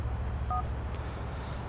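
Phone dialing in GTA IV while calling Roman Bellic: a brief two-tone keypad beep over a steady low hum, with no talk.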